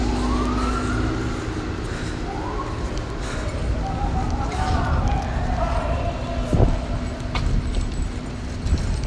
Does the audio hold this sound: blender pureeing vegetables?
no